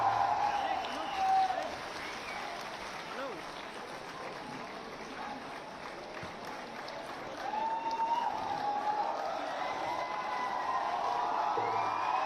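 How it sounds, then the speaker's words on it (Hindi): Sustained applause from a large audience at an outdoor environmental stage event, a steady broad wash of clapping with a few cheers and whoops rising and falling, with no talk over it. "तालियां रुकनी नहीं चाहिए भाई"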